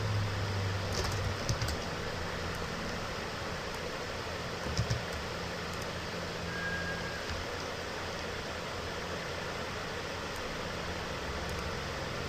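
Quiet, intermittent tapping on a computer keyboard, a few scattered faint clicks over steady background hiss from a fan.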